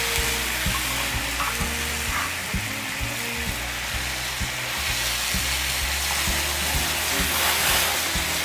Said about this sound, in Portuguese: Então deixar ele dar essa refogadinha e depois eu coloco os tomates aqui nessa mesma panela.